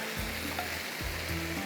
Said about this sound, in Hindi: थोड़ा सा हाई फ्लेम पे इसको भूनते हैं